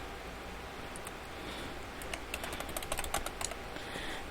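A computer keyboard typed on in a quick run of light, close clicks that thickens toward the middle and then trails off, heard over a steady background hiss with no voices.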